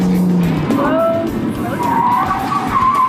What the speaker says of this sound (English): Wow, burning rubber.